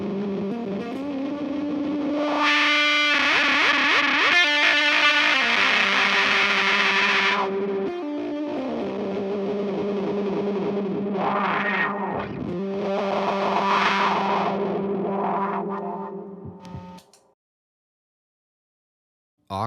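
An electric guitar runs through fuzz, wah and delay pedals, producing heavily blown-out sustained chords and notes with a sweeping filtered tone and trailing repeats, close and continuous before cutting to silence at the end.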